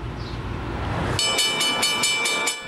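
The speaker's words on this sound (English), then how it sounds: "this is where you sit to watch the train go by" Rumbling train noise builds, then a rapid rhythmic clatter of cars rushing past close by, a loud metallic rushing with repeated bursts.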